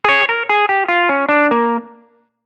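Electric guitar through a Line 6 POD Go modeler set to a balanced tone plays a quick descending lick of about eight picked notes, crisp and lightly overdriven, ringing out alone before fading.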